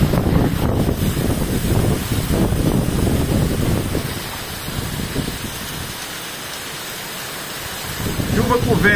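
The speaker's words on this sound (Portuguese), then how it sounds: "Chuva com vento, viu, galera?" Heavy rain driven by wind on a mountain ridge in Martins, Rio Grande do Norte, roars as a loud, close, continuous wash with wind buffeting the microphone, easing midway before building again, while someone talks over it.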